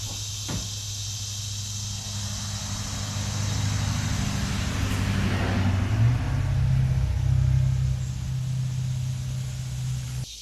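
A car is driven up beside a right-hand-drive 1997 Jeep Cherokee, its low engine rumble swelling louder midway, holding steady, then easing as it settles.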